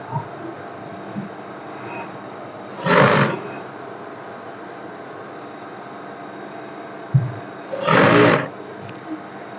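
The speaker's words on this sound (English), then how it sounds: "Now you can sew with 1/2 inch." A sewing machine stitching a shift dress runs in two brief, steady whirring bursts, close and fairly loud, separated by a long stretch of quiet room tone.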